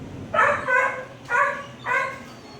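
A puppy at an animal shelter barks and yips in four short, fairly close bursts, each a quick cluster of high, strained calls with brief pauses between.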